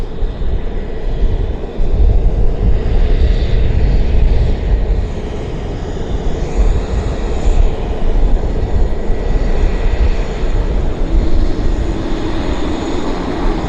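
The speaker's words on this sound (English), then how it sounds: "they have several King Airs based here for medevac flights" A Carson Air King Air twin-turboprop departs Vancouver Airport with a steady, loud, close engine roar and broadband rumble that lasts the whole stretch, with no talk over it.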